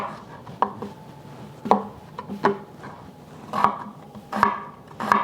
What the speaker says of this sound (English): I like to cut my onions from top to bottom.